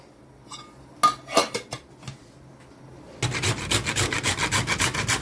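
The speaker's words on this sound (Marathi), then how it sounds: "थोडस जायफळ घासून टाकणार आहे" Whole nutmeg rasped against a small grater for basundi, a run of quick, even scraping strokes close up, preceded by a few scattered clinks and scrapes of metal kitchenware, with no talking.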